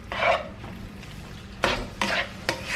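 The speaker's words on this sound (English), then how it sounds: "Stir it just to make sure all the meat gets covered." Thin lean meat frying in a pan on medium-high heat, stirred around with a few loud scraping sweeps of a utensil over a continuous close sizzle.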